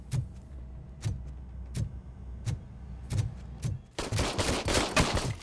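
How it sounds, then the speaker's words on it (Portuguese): Sharp gunshots crack at roughly regular intervals in the video game RoboCop: Rogue City, then a dense burst of rapid gunfire takes over near the end; no talking. "deixa eu te ensinar como é que dá uns tiros"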